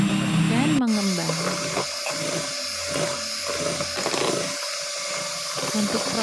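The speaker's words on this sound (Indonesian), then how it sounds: "Kita akan memixer hingga adonan terasa atau terlihat kaku" An electric mixer whirs continuously while beating sponge cake batter with sugar until stiff, a steady high whine with slight pitch shifts throughout, loud and close.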